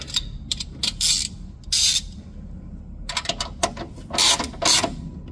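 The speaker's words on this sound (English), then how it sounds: "So I can probably go ahead and torque these from down here. So I'm gonna get my ratchet." A hand ratchet tightens bolts during a supercharger kit install on a 1999–2005 Mazda Miata, with quick close clicking bursts, some long and some short, in a quiet garage.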